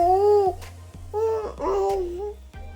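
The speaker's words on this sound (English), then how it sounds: "you may hear a little baby in the background" A small baby babbles and coos in short voiced bursts somewhat in the background, with brief pauses between utterances in an indoor room.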